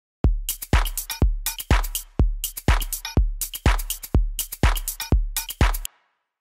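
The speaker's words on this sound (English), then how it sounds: "the drums all together sound like this" Eclectic house drum pattern with a hard kick on each beat layered with crisp hats and claps, loud, tight and steady, about eleven hits, and no voice over it.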